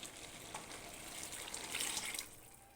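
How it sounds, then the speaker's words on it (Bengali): Paneer is poured together with its water into a hot cooking pan, giving a soft, continuous watery splash and sizzle that swells slightly toward the end, fairly quiet and with no talking. "জল সমেত পনিরটা দিয়ে দিলাম।"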